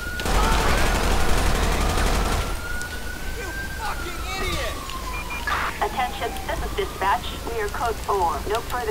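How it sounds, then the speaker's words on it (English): Rapid gunfire bursts in the GTA 5 police game, with a police siren wailing after the shots and someone talking over the noise. "Shots fired"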